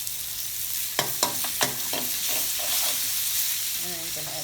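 Rice noodles stir-fried with soy sauce and fish sauce: loud continuous sizzle close by, with several sharp clacks and scrapes of stirring early on and a brief squeak near the end.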